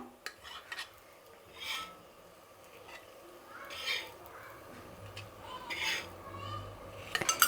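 Shallow-fried brinjal slices are lifted from a pan onto a plate, with scattered scraping and clinking of a utensil against cookware and a faint sizzle underneath, moderately quiet and close.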